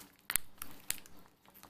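A snack packet of hard candies from another country is torn open, giving a few sharp, close crinkles and rustles of plastic wrapper separated by short pauses.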